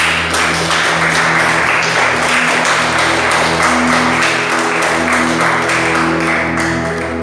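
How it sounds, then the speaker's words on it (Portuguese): Church congregation applauding during a worship service, a sustained wash of many hands clapping at once, loud and steady throughout, with a low hum of music or organ tones underneath. "Quem puder, dê uma salva de palmas ao Senhor mais uma vez."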